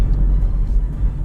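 A Toyota Innova MPV from the 2014-2016 run, engine lugging at low RPM in fifth gear, heard from inside the cabin as a steady, deep droning rumble with no other sounds over it.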